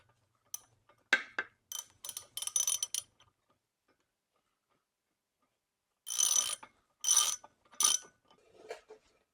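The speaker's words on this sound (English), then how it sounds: "So we want to use our socket now to tighten that back up." Socket wrench ratcheting while tightening a part during spring boat prep: two close bursts of quick clicking strokes, separated by a few seconds of near silence.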